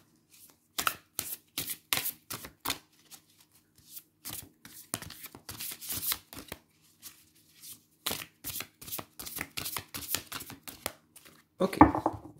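Oracle cards are shuffled close up in quick crisp bursts of riffling, broken by pauses, fairly quiet, ending with a louder shuffle and handling sound.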